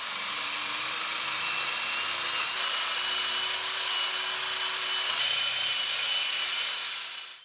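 A small wire brush scrubs rust flakes off a brake caliper, making a steady, moderately quiet grinding and rasping whir. The sound runs unbroken for about seven seconds, then tapers off.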